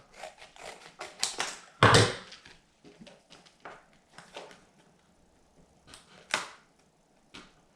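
Sharp, irregular snips and crinkles of scissors cutting through stiff plastic GoPro Hero 8 packaging, in short bursts with pauses, one louder crunch near the start.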